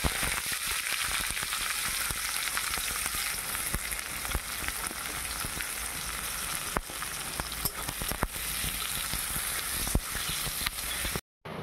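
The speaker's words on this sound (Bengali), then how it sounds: "ফোড়নটা হয়ে গেছে, এবার পেঁয়াজ কুচোনা দিচ্ছি।" Chopped onions frying in hot white oil in a wok after a black cumin tempering, a steady, dense sizzle running continuously with no talk.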